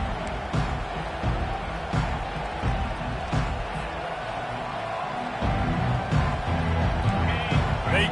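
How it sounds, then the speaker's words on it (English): A stadium crowd at a college football game keeps up a sustained, loud roar of cheering and noise throughout, with some swells and a brief dip, heard from within the stands. "They challenge this crowd to bring the energy, and I'd say they're doing that."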